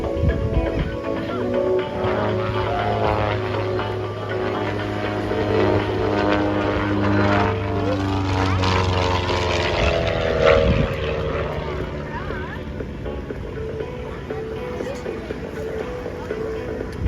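Aerobatic propeller plane sweeping past at an air show, a loud sustained engine drone with a pitch shift as it passes, crowd ambience around it and an announcer talking briefly.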